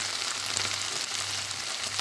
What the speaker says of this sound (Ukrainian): Куриця з цибулею вже приготувалися. Навіть почали підсмажуватися.